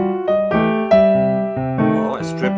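A blues piano lick in old-school style, its chords broken up and played note by note in a bouncing rhythm, close and clear, with no talking over it.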